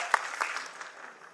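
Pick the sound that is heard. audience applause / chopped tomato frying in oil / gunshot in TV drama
audience applause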